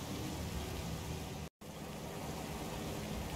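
Rain in the video game GTA 5, a dense, even hiss of falling water that runs steadily except for one brief dropout halfway through.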